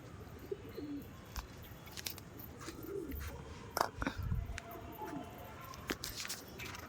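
Pigeons coo softly near a house rooftop, low murmuring calls mixed with light chirps, rustles and footsteps, with a faint voice in the background.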